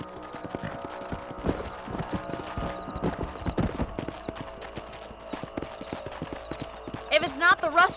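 Horse hooves clip-clop in Red Dead Redemption, a brisk irregular run of hoof strikes over a western landscape, with a whinny near the end and a voice talking over part of it.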